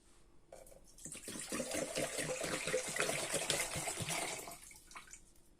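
One litre of water pours from a tap into a vessel for a marinade, splashing and gurgling up close for a few seconds before it cuts off.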